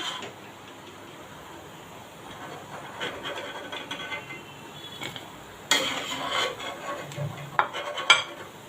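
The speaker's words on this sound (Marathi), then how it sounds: "इथे मी पुन्हा तेलामध्ये भज्या सोडल्या होत्या" Coriander bhaji fritters frying in hot oil give a steady low hiss, with a few metal utensil clinks and scrapes and a louder stirring clatter near the end.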